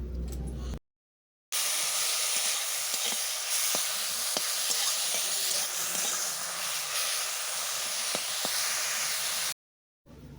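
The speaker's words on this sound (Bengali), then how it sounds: "ধুয়ে রেখেছিলাম ঘিমে শাক ভেজে নেব" Gima greens sizzle and hiss while frying in a pan, a continuous close frying sound with light stirring knocks scattered through it, briefly cut to silence at the start and end, with no voices.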